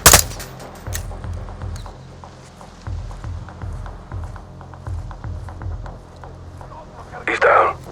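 Gunfire in Call of Duty: Modern Warfare II, a run of muffled shots and thumps under a low rumble with voices speaking, then a loud burst near the end.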